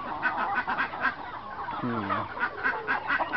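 Aseel chickens cluck softly in a busy farmyard, with one louder, drawn-out hen call rising in the middle of the steady background noise.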